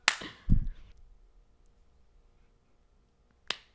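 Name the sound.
dramatic slow clap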